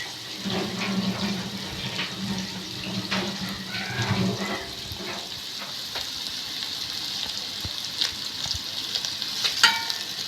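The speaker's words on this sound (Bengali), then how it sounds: "পেঁয়াজটাকে একটু ভালোভাবে ভেজে নিচ্ছি আমরা।" Onions fry on an electric stove ahead of a beef dish, giving a steady, loud sizzle with occasional stirring scrapes and clatter close by throughout.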